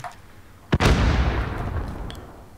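A grenade blast in a first-person shooter game: a sharp close crack followed at once by a loud booming roar that rolls and decays over about two seconds.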